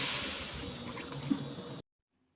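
Water poured into a pan while cooking Chinese-style chicken feet with chili, a steady liquid rush and sizzle heard alone for about two seconds before cutting off.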